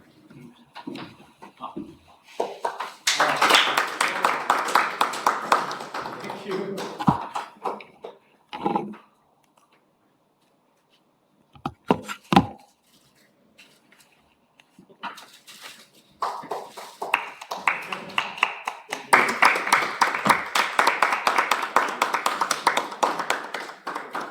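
Applause from members of the Nepal Engineers Association at a talk show event, with bursts of clapping that stop, a brief scattered patter, then a second sustained round of clapping.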